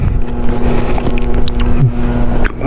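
A motorbike ridden in Canada sends out a continuous engine drone with steady tonal hum and wind rush, loud and close throughout, easing slightly at the very end, with no talk.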